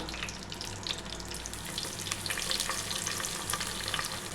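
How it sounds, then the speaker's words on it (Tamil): Sliced onions (large and small) frying in oil in a pan for mutton curry, a steady close crackling sizzle with occasional stirring scrapes throughout, with no talk. "நல்லா வெங்காயம் பொன்னிறமாக வதங்கட்டுங்க."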